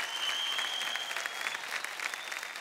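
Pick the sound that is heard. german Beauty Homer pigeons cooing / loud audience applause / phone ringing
loud audience applause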